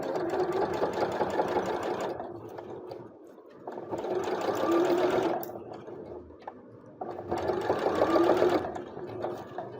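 Sewing machine stitching the final section of a trumpet flower piece, running in three sustained bursts separated by brief pauses, close and steady.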